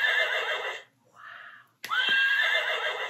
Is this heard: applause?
no